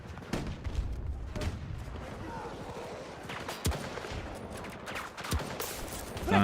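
Gunfire in Battlefield 6 rings out as several sharp, separate shots spaced irregularly over a constant rumble of battlefield noise. One loud report lands near the end.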